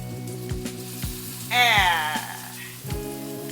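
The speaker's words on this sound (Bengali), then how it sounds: "লাইফে ফার্স্ট টাইম আমি ভাজছি, খেয়েছি কিন্তু ভাজিনি, এবারে চেষ্টা করছি।" Food frying in a home kitchen pan sizzles with soft crackling pops at regular intervals over a steady background hum, and a brief vocal sound rises in the middle.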